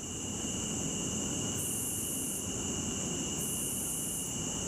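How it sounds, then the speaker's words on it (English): Cicadas drone steadily in a high-pitched hum throughout over a faint hiss, with a shrill upper layer swelling in and out. "the buzzing of cicadas"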